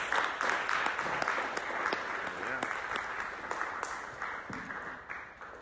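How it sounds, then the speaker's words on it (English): An audience at a startup demo event claps after the finalist presentations, fairly quiet and distant, with steady applause running the whole time and a few faint voices underneath. "Give a big round of applause."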